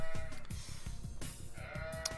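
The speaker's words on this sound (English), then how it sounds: "How will Henturio ever find these sheep?" Sheep bleating in an Age of Empires match, several wavering cries in a steady rhythm over a dense background of game sounds.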